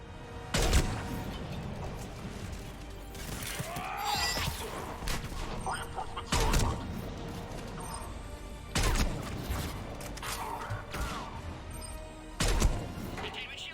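Combat in the video game Mass Effect 3, with heavy bursts of gunfire and booming impacts arriving in several loud waves over a rumbling background, broken up by mechanical clatter and an urgent voice speaking between the blasts.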